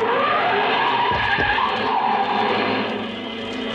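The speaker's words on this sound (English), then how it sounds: "a car started up down the street" A car down a street starts up and speeds away with tires skidding, a loud sustained squeal and engine roar that fades slightly toward the end.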